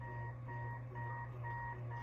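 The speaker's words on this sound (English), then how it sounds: "that's a loud alarm" Alarm in a Spider-Man video game, a repeating electronic beeping tone pulsing about twice per second over a low steady hum, fairly faint in level with no voices.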